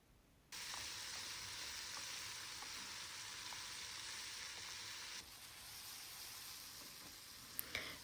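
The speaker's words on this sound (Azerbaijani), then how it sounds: "Biberlə də biraz qovururam." Mushrooms with peppers fry in a pan, a steady, fairly soft sizzle that starts abruptly, runs evenly, then eases slightly in level, with a couple of faint clinks near the end.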